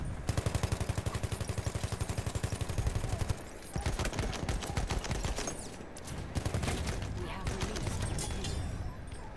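Sustained rapid machine gun fire in a video game, a fast steady rhythm of sharp close shots that pauses briefly and resumes, with quieter talk underneath.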